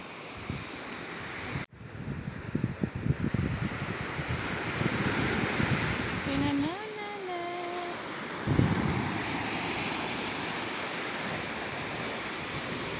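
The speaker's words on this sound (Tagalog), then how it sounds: "Ang ingay ng tubig." Ocean waves washing on the shore, a steady rushing surf roar with wind buffeting the microphone, and a brief tonal sound partway through.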